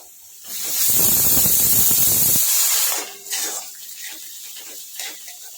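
Garlic and chili paste hits a pan of roasting onions with a loud, bright sizzling hiss lasting a couple of seconds, then settles into a softer crackle for ragda chaat.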